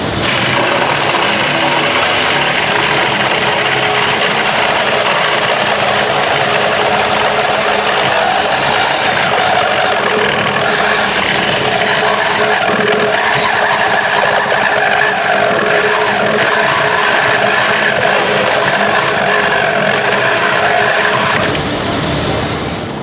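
A tool cutting through aluminum plating on a yacht for speaker holes, producing a loud, harsh, continuous grinding whine that runs unbroken for about twenty seconds before cutting off.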